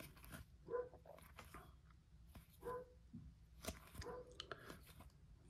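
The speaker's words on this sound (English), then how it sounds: "Dog damn barking." A dog barks faintly in the distance, a few separate woofs spread over several seconds, heard behind the quiet rustle and handling sounds of someone opening a pack of hockey trading cards.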